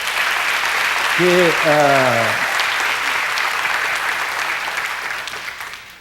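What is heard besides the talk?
young audience applauding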